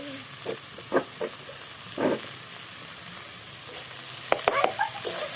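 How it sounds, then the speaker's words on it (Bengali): Cabbage, carrot and capsicum are stir-fried in a pan, giving a soft steady sizzle under scattered scraping and clattering stirs, with a burst of quick knocks near the end, close and moderately quiet. "একটু নাড়াচাড়া করবো"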